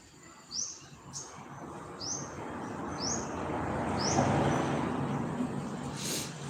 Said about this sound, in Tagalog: Mayroon din ditong yung maliliit na ibon